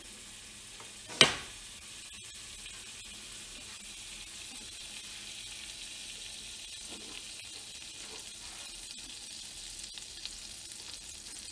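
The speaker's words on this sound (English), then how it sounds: "I'm just gonna get about a tablespoon of butter, and we're gonna throw that in" A tablespoon of butter drops into a hot pan with one sharp hit, then a steady soft sizzle and frying hiss continues, faint and even, with no talking.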